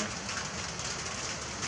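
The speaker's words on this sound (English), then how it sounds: "As y'all can hear, the rain is starting." Rain starting to fall outdoors at a shooting session, a soft steady patter of drops spread evenly across the short stretch, fairly faint and with no voices.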